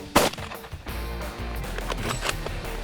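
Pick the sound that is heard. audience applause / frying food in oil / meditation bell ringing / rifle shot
rifle shot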